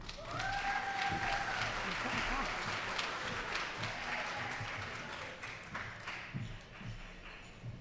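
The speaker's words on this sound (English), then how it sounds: "Let's give the honor students another round of applause" An audience at a graduation ceremony claps in sustained applause that thins out toward the end, with a voice briefly audible early on.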